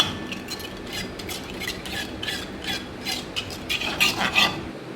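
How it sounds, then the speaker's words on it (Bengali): Paneer and capsicum stir-fried with cumin, coriander powder and salt in a pan, a spatula scraping and clinking steadily up close with faint sizzling beneath. "এটাকে এইভাবে কষিয়ে নেব।"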